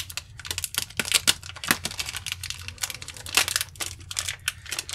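Someone cuts open a parcel holding 20 RGB LEDs, with rapid, dense crackling and crinkling of packaging and sharp snips running throughout, close and without speech.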